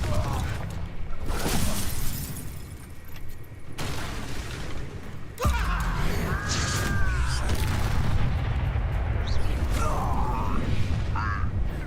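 The Confringo explosive spell goes off in Hogwarts Legacy combat, booming blasts and shattering crashes over a continuous dense game soundscape, with some character voices mixed in.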